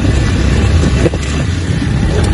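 A short motorbike rides along a dusty village off-road track, its steady, close engine rumble half-buried under heavy wind buffeting on the microphone.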